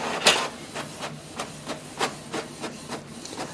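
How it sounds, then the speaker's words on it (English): Canon Pixma TR8622 inkjet printer printing a document, giving a sharp initial clack and then a run of regular mechanical ticks and whirs as the print head moves, close and fairly quiet. "So here we can see it has started to print."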